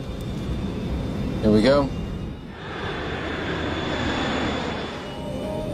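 An airliner's engines hold a steady roar inside the cabin or cockpit as the takeoff roll begins, with a brief spoken phrase partway through and the broad engine noise continuing underneath.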